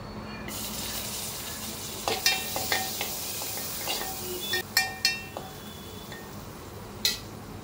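Finely chopped onion tossed into a pan of garlic browning in oil, with a soft sizzle beneath scattered metallic clinks and scrapes of a spoon against the pan, close and fairly quiet.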